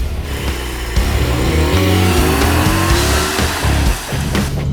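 A Porsche Cayman GTS 4.0 with a manual gearbox and naturally aspirated engine pulls hard, its loud, close engine note rising steadily in pitch through a gear, then easing off briefly near the end.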